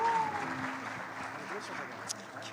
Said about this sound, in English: a round of applause for our contestants, for our judges